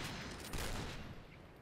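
An L11 gun fires in the Point Blank online shooter game, a quiet, dense burst of rapid gunfire that blends into a steady wash of noise.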